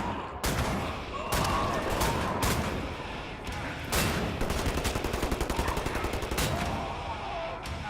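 Automatic shotgun blasting in the first-person shooter Wolfenstein: The New Order, with heavy repeated shots at irregular intervals and a faster burst near the end, set over a dense, noisy battle backdrop.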